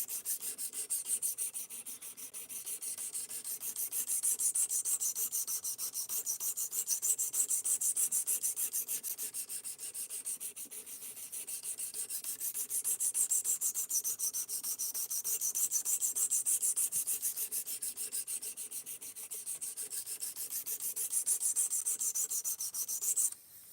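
A steel knife blade, S35VN, being honed on a guided sharpening stone system, with repeated rhythmic rasping strokes swelling and fading in long, even passes, fairly quiet and alone.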